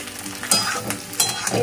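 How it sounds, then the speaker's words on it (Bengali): Okra and pumpkin curry with onion fries in a pan, a close, steady sizzle and crackle with a few louder spatters and stirring scrapes. "এখানে বসিয়েছি তরকারি, ভেন্ডি কুমড়োর তরকারি করবো।"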